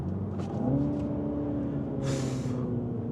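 A 2024 Mini John Cooper Works 1to6 Edition with manual gearbox auto rev-matches on a downshift. The engine note sits steady, rises in pitch, and a brief hiss of air pops out partway through. It is moderately loud and heard alone.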